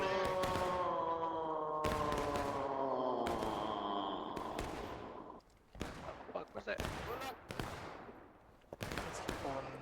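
Close-range skirmishing musket fire in a Civil War battle game, a run of sharp sudden cracks at irregular intervals, some overlapping, loud against a droning background with a talking voice over it.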